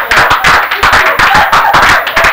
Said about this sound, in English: That deserves a round of applause here